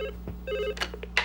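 A telephone rings in short electronic trilling bursts, two clear rings with a pause between, set over a low steady hum in a cartoon scene, with a few small knocks and clicks near the end.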